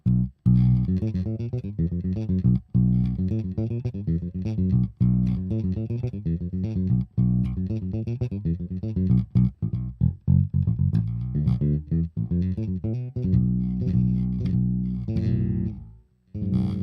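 Harley Benton PJ-4 bass guitar through an amp with a gritty, driven tone, playing a steady line of plucked notes with brief pauses.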